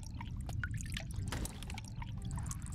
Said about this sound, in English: I like the water sounds in this.